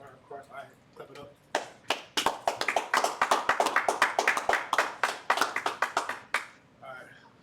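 One person's hands clap a quick, sharp rhythmic run of loud claps that starts slowly and fades out, recorded close with brief speech around it.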